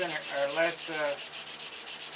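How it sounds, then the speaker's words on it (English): Sandpaper rubs over clear dope filler on a control line model aircraft covered in silkspan, making quick, rhythmic back-and-forth scratching strokes close by. "So we're just using clear dope as a filler and sanding."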